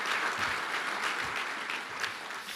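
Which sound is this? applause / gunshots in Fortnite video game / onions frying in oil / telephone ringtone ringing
applause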